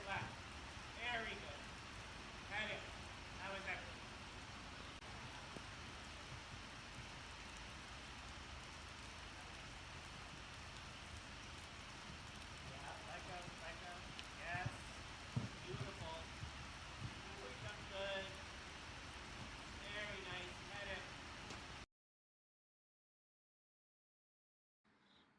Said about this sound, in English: it's hard to film when it's raining